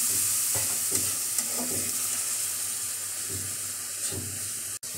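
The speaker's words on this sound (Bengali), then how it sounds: "ভালো করে নাড়াচাড়া করে নেব।" Chopped garlic, grated ginger and a splash of water are stirred in a hot pan for an egg curry, with rhythmic scraping strokes repeating over a constant sizzle.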